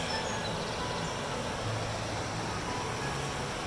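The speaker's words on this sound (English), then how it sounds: "the sound you can hear there is the weir" The River Mersey pours over a weir under a green bridge near Urmston, making a constant broad rushing roar that holds steady with no breaks, heard from a short distance.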